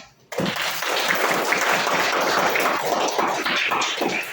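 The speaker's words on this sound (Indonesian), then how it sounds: "Kita beri aplaus untuk kita semua." Classroom applause from a group of students: steady, dense clapping that starts abruptly and continues loudly throughout, close and lively.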